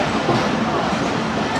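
Rumbling train noise at a crowded Multan railway station, a dense continuous roar of rolling rail cars with station bustle mixed in, loud and close.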